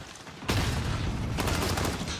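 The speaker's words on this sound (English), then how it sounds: "And here comes the gunfight." Dense burst of gunfire in a Call of Duty League esports match, Los Angeles Guerrillas versus Florida Mutineers, erupting suddenly after a quiet lead-in and continuing as loud, rapid overlapping shots.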